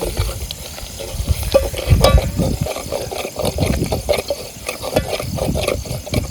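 A spoon stirs a thick gravy of masala, chopped coriander and flour in a pan, giving steady scraping and sloshing strokes over a constant close sizzle, with no voices.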